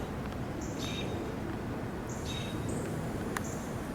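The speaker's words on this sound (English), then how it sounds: "Birds chirping." Several short, high bird chirps ring out over a steady background hiss, spaced irregularly across a few seconds.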